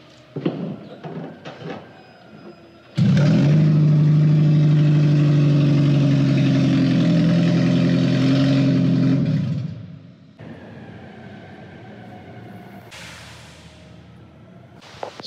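Toyota Prius driving with its catalytic converter stolen, giving a loud, steady, raw exhaust drone that starts abruptly, holds for several seconds on a city street, then fades back to quieter traffic noise.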